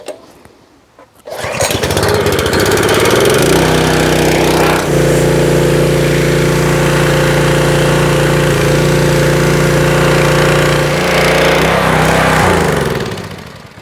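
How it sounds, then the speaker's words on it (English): A gasoline pressure washer engine starts and runs loud and close, a steady rough drone with a sharp rise at startup and small load changes as it keeps going before dropping off near the end. "never leave your pressure washer stay idle more than 1 minute"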